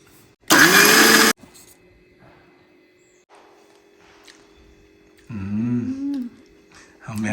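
A mixer grinder briefly runs at full, loud speed, grinding roasted dried fish with coconut, salt, tamarind, garlic, bird's eye chilli and onion, then stops; quieter handling noises and a voice follow.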